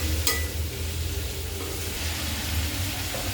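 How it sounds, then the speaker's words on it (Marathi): Onion and mixed vegetables stir-fried over a high gas flame for mushroom chili, a steady loud sizzle with brief stirring scrapes running throughout, no voices. "गॅस मोठाच ठेवायचा आपल्याला मोठ्यावरच परतायचं सगळं"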